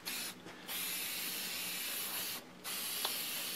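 Aerosol spray can hissing out finish over a freehand-carved redwood stop sign, a steady close spray in long bursts broken by two short pauses.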